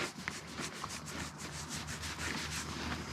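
A hand scratches a horse's coat in quick, rhythmic rubbing strokes that repeat close by at a soft, even level, with no talking.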